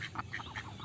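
A flock of ducks quacks in a rural village setting, a few quick, fairly faint quacks in close succession.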